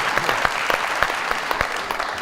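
A studio audience at a television talk show applauds, a dense, loud burst of clapping with sharp individual claps standing out throughout.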